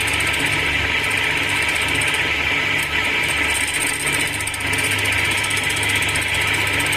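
A bench grinder with a wobbling, unevenly running stone hums loudly and continuously, a steady mechanical drone with a slight pulsing flutter that holds throughout.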